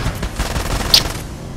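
In Far Cry 2 gameplay, a big gun fires a rapid, loud burst of shots up close in a brief, dense fusillade.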